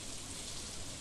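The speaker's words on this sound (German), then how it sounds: "Oh, es regnet." Steady rain in the farming video game Stardew Valley, a dense, even hiss of falling water that stays constant throughout with no voices.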